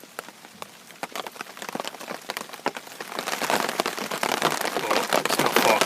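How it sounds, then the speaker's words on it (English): Mild rain falls at a fishing syndicate lake, drops pattering on a surface as scattered ticks at first, then thickening into a denser, louder, steady patter. "mild and raining, so the first lot of rain we've had for a long while"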